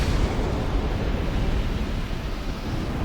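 A black firebomb bursts in a fire in Dark Souls 2, a deep, loud explosive roar that holds as a continuous rumble for a few seconds and then eases slightly. No voices.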